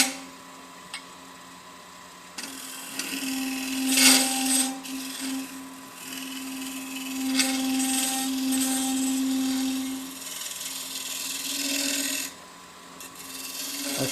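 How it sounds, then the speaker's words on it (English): A negative rake scraper cuts wood on a spinning lathe at a wood turners meeting, with a steady motor hum under a rasping scrape that swells and fades in passes, close and continuous with no talk. "The negative rake scraper has a burr, just like a regular scraper."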